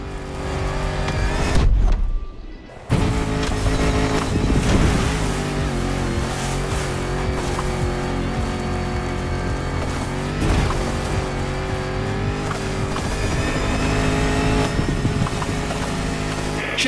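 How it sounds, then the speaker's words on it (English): A Land Rover Defender with 400 horsepower in the racing game The Crew Motorfest drives with a steady, loud engine drone, a brief drop near the start, then continuous rumbling with shifting pitch and occasional tire noise. "This Defender is like an old-fashioned rugby player. 400 horsepower under a 70-year-old bonnet."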